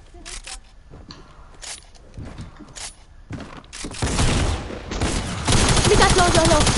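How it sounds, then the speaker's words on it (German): Shotgun blasts in a team video game, sharp broadband bursts scattered irregularly and then dense continuous gunfire toward the end, with players talking over the action. "Shotgun-Schuss."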